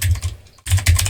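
Someone typing Node.js code on a computer keyboard makes quick, close clattering key presses in two bursts split by a brief pause.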